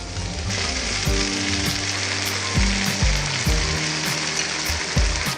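Sauce and vegetables frying in a hot wok for chicken with greens, a loud continuous sizzle broken by repeated scraping stirs and clanks, close up with no voices.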